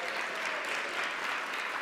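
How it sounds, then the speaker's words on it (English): Steady, moderately distant applause from an audience at a Critical Issues Symposium, a dense wash of clapping that continues evenly throughout without talk. "Give them a round of applause."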